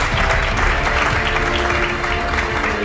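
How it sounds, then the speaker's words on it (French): A theatre audience gives dense, sustained applause, loud and steady throughout, with faint crowd voices mixed underneath. "Alors on applaudit tout le monde"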